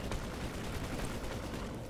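Gunfire and explosive weapon noise in the Planetside 2 online shooter game, a dense continuous roar of battle at fairly low level with no talking.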